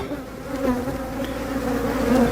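A dense, steady drone of many honey bees buzzing close by at an open hive during an inspection, with smoke in use, a continuous low hum with shifting pitch throughout.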